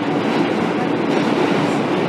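A subway train rumbles steadily and loudly from inside the car, with a dense, continuous roar of wheels and motion and no clear breaks.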